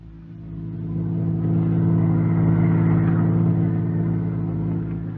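A car engine rumbles and builds as the car pulls away, a loud low drone that swells, holds steady and then eases slightly, heard alone.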